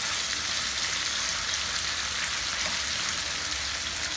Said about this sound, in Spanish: a que se caliente el aceite y ponemos el pollo